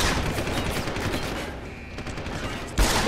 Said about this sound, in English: Yeah, shoot him in the body armor.